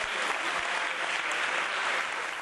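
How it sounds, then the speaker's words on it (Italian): Dense, steady applause fills the great hall of the Bo at Padua's Paralympic culture festival opening, a continuous roar of many hands with no voices standing out. "Nell'aula magna del Bo scrosciano gli applausi"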